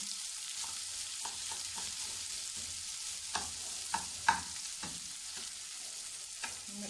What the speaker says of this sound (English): Now put to stir your rice, turn the heat down